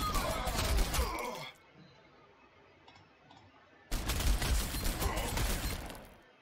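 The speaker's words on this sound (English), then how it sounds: "Let's keep shooting them." Gunfire from Ork units in the Warhammer 40,000: Sanctus Reach strategy game, two loud bursts of rapid crackling shots separated by a quiet stretch of low ambience.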